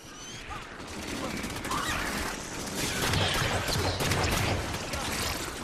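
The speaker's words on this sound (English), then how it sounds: "Assault rifle." Assault rifle fire in the Halo 5: Guardians campaign, a dense continuous burst of shots mixed with crashing impacts and mechanical clatter in the game's busy combat soundscape.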